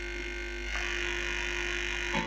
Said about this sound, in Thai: แอดจะใส่พัดลมเป่านะครับ